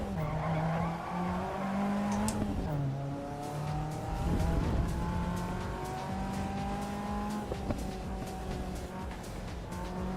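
A race car slides and skids in Assetto Corsa EVO, with a steady engine drone and a tire squeal that rises and dips as the slide goes on. The sound stays continuous at a moderate level throughout.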